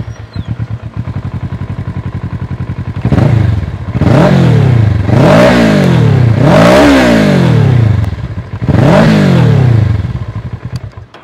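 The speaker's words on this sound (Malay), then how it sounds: "So kami cuba start dengan engine punya bunyi dulu." A 2013 Kawasaki ER6N motorcycle with a full exhaust system idles with a steady throb, then is revved hard four times, each rev a loud, close rising and falling roar.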